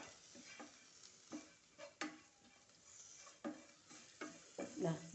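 A spoon stirs potato masala curry in a pan, giving repeated scraping and clinking strokes at an uneven pace with a faint sizzle underneath, fairly quiet and close.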